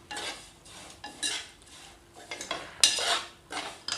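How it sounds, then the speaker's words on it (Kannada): A dish being stirred in a pan on a gas stove for an Akshaya Tritiya festival recipe, with repeated scraping and clattering strokes of a spoon against the pan bottom in an irregular rhythm, close and fairly loud, no talking. "ಗ್ಯಾಸ್ ಬಂದ್ ಮಾಡ್ಕೊಳ್ಳೋವರೆಗೂ ಇದನ್ನು ಈ ರೀತಿ ಕೈ ಆಡಿಸ್ಕೊಂತಿರ್ಬೇಕು"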